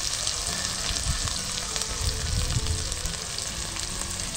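Capsicum, tomato, salt and spices fry in a pan with a steady, fairly loud sizzle and light stirring scrapes, continuous from start to finish with no talking.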